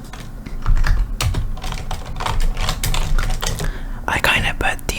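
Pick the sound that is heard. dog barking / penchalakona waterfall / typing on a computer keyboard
typing on a computer keyboard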